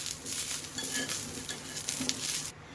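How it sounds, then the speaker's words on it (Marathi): Coriander and cumin roast in a hot pan with a dense, crackling sizzle and light stirring scrapes, close and continuous before stopping abruptly. "थोडी कोथंबीर टाकते त्याच्यामध्ये दोन मिनटं भाजून घेऊया"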